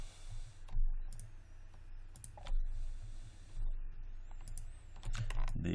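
Mouse and keyboard clicks at a computer while modeling a sword in Maya 2017, a run of short, crisp, close-up taps spread unevenly over a low, steady room hum, with no talking.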